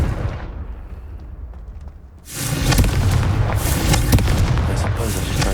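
The Confringo blasting spell goes off in Hogwarts Legacy inside a tomb: after a quiet lull, a sudden loud blast erupts into a sustained roaring, crackling rumble that holds for several seconds.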